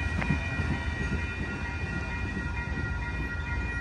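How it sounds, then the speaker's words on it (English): Amtrak Coast Starlight passenger train led by an ALC-42 locomotive passing at 98th Avenue, a loud continuous rumble and rolling roar of cars close by, with a brief high squeal near the start. "this train is going to Los Angeles"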